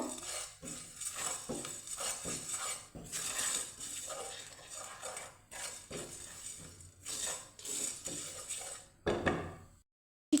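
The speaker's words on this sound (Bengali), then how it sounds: "এটাকে আমি হালকা রোস্ট করে নেব" Spices rattle and scrape against a metal pan as they are tossed and stirred, a continuous clattering with a louder clank near the end.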